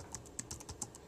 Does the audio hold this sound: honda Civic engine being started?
no